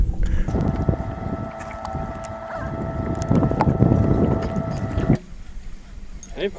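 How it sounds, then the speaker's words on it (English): A trolling motor on a fishing boat hums steadily over water for about five seconds, close and fairly loud with some wind buffeting, then cuts off, leaving quieter water and wind sounds. "Now Carl has to operate the trolling motor."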